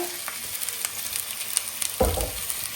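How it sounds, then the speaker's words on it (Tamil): Chopped onion and green chili fry in hot oil with a steady, close sizzle, a few light scrapes of stirring and one louder clatter near the end. "இப்போ ஆனியன் நல்லா வதக்கணும்"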